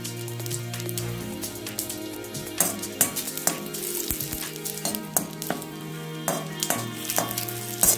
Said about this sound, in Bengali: কড়াইতে অল্প তেল দিয়ে গরম করে নিয়ে তাতে দিলাম 3টি শুকনো লঙ্কা ও তেজপাতা এবং অল্প গোটা